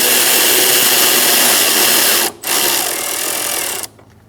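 A power tool whirs loudly, tightening a nut on a 2004-2009 Mazda 3 radiator, two continuous bursts separated by a brief pause before stopping.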